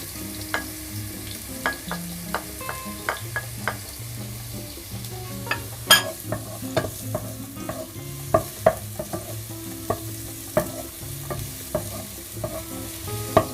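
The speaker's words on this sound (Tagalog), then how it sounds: "So, sasangkotsahin nyo lang to." Garlic sautéing in hot oil for ginataang tilapia, an even sizzle punctuated by frequent sharp clicks and scrapes of a spatula against the pan, with a faint hum underneath and no talking.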